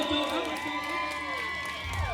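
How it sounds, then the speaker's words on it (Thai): An audience at a Thai village festival stage show applauds and cheers for a performer's daughter, a lively crowd roar with music tones running beneath and a voice over the top. "เสียงปรบมือให้กับลูกสาว"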